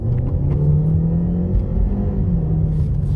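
A 2017 Ford Escape 1.5L turbo engine runs at wide open throttle in a parking lot, a loud, steady low rumble with a droning tone held throughout.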